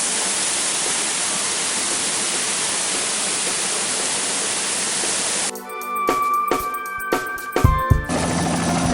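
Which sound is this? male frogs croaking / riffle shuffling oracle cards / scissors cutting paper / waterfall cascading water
waterfall cascading water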